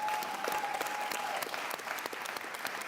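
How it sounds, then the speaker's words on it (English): An audience claps for a conference panel at a foundation's annual convening, a dense, continuous burst of many hands at moderate level that carries on steadily for a few seconds. "Please just let's give the panel a final applause and for the day."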